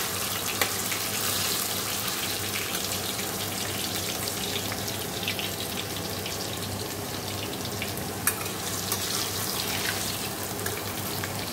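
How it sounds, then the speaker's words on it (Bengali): Potatoes frying in oil for a chicken curry give a steady, dense sizzle that fills the whole clip at an even, close level, with no one talking. "এদিকে দেখো মাংসের আলু ভাজা হচ্ছে।"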